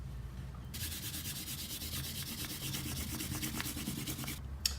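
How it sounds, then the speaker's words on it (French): Pencil construction lines rubbed out with an eraser on paper, a close, steady scratchy rubbing that runs for about four seconds and then stops. "on peut gommer nos traits de construction"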